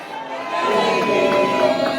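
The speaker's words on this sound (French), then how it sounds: "Applaudissez la plus belle des Bakoko." A large crowd at a lively political gathering cheers and claps, a loud swelling roar of many voices that builds after a quieter start and stays full to the end.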